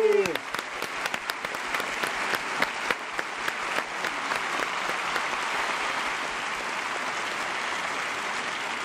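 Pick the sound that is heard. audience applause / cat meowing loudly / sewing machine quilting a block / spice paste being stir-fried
audience applause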